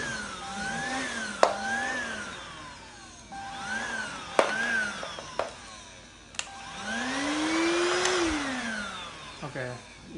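A Deik 2-in-1 cordless upright vacuum cleaner runs close by with a steady motor whine that swells and dips in pitch several times over a continuous airy rush.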